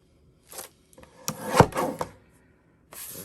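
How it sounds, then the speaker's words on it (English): Sublimation paper print trimmed at the bottom for a silver tumbler, a few short close scraping and cutting strokes with a brief louder swipe in the middle, amid quiet pauses. "I'm going to trim a little bit off the bottom because the wording is really close to the top."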